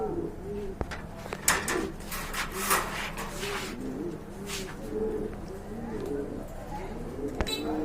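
Pigeons at a market coo in a soft, repeated rhythm close by, with occasional rustles and scrapes and people talking in the background.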